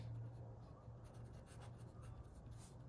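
Answer written by hand during a ninth-class math lesson on straight lines, a faint steady scratch of pen or pencil on paper, continuous and close, with low hum underneath and no speech.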